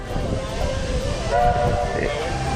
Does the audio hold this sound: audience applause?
no